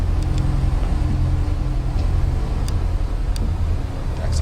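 A Piper Cherokee 180 engine drones steadily at low revs while the plane taxis in a flight simulator, a constant close rumble with faint clicks above it.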